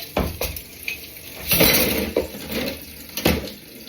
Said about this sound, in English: Right, in goes the cutlery.